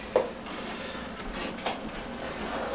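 Spoon stirring cream into a pan of smothering sauce with mushrooms and onions for pork chops, a soft steady sizzle with a couple of light scrapes, close and low in level, no talking.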